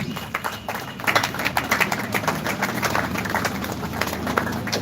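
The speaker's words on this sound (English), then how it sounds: "please keep clapping while she moves" Audience at an art competition and exhibition clapping steadily, a dense, continuous patter of many hands that stays fairly close and even throughout with no pause.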